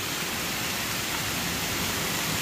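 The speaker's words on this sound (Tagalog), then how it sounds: "may mga mini falls" Small mini waterfalls flowing, a steady broadband rush of falling water heard close and unbroken throughout.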